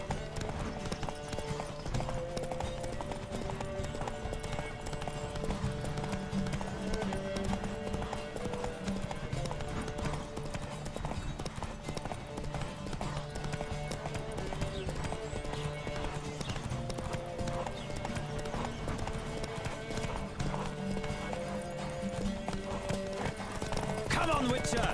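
A horse gallops in The Witcher 3 with steady, even hoofbeats that run the whole time at moderate loudness, set under background music and voices talking.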